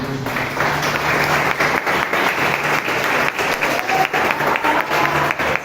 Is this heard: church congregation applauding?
yes